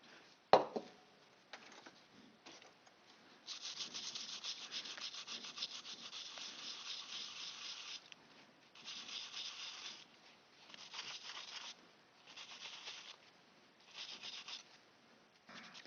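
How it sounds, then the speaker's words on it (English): Excess flux is scrubbed off a damaged control circuit board after a shorted return pump, producing faint, close rubbing strokes in irregular bursts with short quiet gaps. "now would be a good time to actually clean up all this excess flux"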